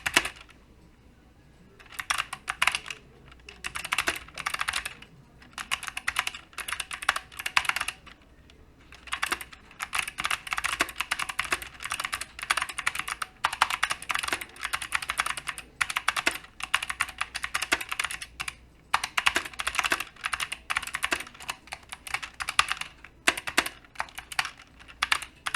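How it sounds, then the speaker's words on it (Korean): Computer keyboard typing while working through a 3D Max exercise on coloring a casual character, a steady close-up stream of rapid key clatter with brief pauses, continuing for the whole stretch without speech. "그냥 타자만 치고 있어"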